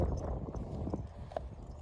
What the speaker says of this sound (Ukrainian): Є у нас на продажу така кобила.